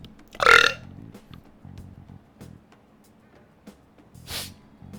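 A single loud, close burp bursts out near the start, followed by a much softer second belch near the end over quiet background noise.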